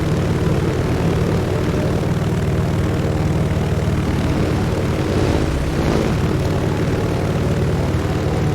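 A propeller-driven bomber engine drones steadily and loud throughout a War Thunder air battle, a constant heavy rumble with a slight swell in pitch midway and no talking.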